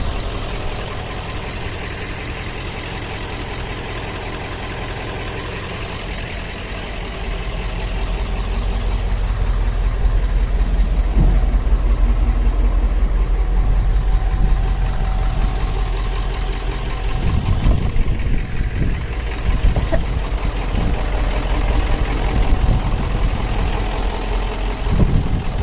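A car engine idles steadily after starting, a low continuous rumble that grows slightly louder partway through, with a few irregular knocks and clunks toward the end and no talking.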